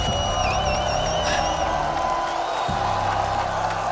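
A large live crowd cheers, whoops and applauds continuously at a Call of Duty esports tournament in Paris, a dense steady roar throughout with a faint voice over the noise.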